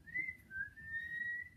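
A person whistles a soft, sustained note that dips and then holds, quiet and alone with faint background hiss.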